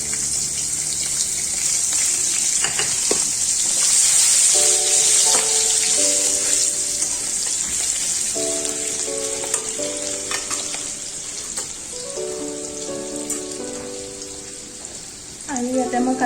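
Onion frying in a hot pan for chicken chow mein gives a steady, loud sizzle throughout, with a few clinking utensil taps and a soft tonal melody playing underneath.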